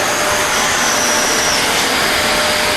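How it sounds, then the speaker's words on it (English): A TASKI Iro 15 Power vacuum cleaner with an 800 W motor runs steadily and loudly throughout, giving off a constant broadband whoosh with a faint high whine. "Even with this motor, the vacuum is really silent."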